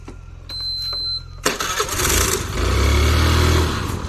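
A small scooter engine sputters, then catches after a sharp jolt and runs with a rising, revving drone close by.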